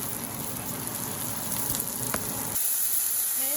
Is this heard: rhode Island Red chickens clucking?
no